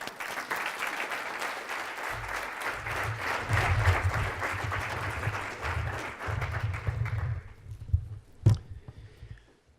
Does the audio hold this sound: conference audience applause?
yes